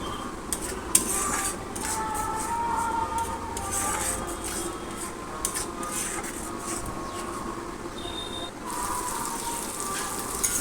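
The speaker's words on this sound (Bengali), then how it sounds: "এবার 15 মিনিট ধরে আমি এই মশলাটা ভালো করে কষিয়ে নেব।" Tomato paste masala for a rohu fish curry stir-fried in a pan, a steady close scraping and clinking of spatula on metal with soft frying underneath, continuous throughout.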